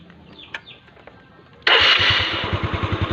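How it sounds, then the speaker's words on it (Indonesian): A Yamaha Mio J scooter engine, fitted with a removed regulator-rectifier, cranks once and then catches into a loud, steady idle with a pulsing low thump, after a quiet second or so of faint background noise. "Kita langsung nyalakan mesinnya"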